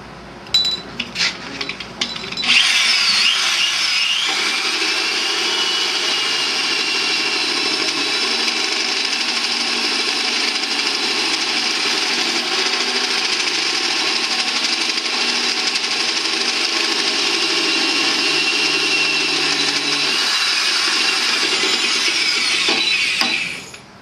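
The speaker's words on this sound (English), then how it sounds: "Edge the hole saw to that mark and make sure we're top dead center." A hole saw cutting a notch in one end of a metal tube gives a steady, loud, high grinding whine for about twenty seconds after a few short starting taps, then winds down, with no talking.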